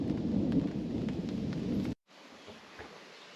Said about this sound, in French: La pluie tombe